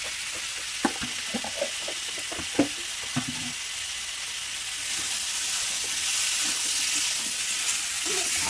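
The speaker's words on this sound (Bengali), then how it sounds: "আর নেড়ে চেড়ে সুন্দরভাবে নিতে হবে" A Malabar spinach curry cooked with fish oil is stirred in a pan. Several sharp spoon knocks sound over a steady frying hiss, and the sizzle swells louder midway and continues.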